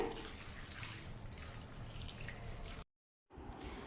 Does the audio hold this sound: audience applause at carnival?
no